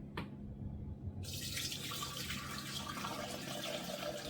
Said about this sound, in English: I'm just going to pour it into the sieve